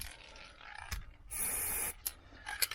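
Spray paint hisses in a short sustained burst onto a caravan hitch plate, close by, framed by a few clicks and handling knocks before and after.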